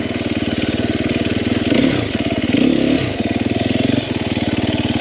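Sherco 300SEF four-stroke dirt bike engine droning steadily while riding, with a continuous close throbbing note that surges briefly in two revving swells before settling back to a steady pull.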